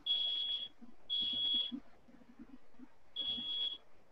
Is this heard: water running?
no